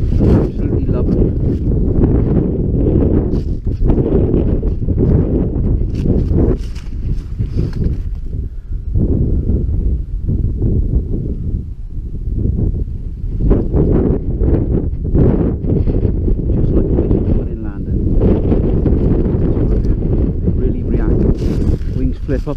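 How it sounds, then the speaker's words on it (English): Strong wind buffets the microphone outdoors during pigeon decoying, a loud continuous low roar with gusty surges throughout, while someone talks over it. "But today the wind's getting up. It's been quite breezy today."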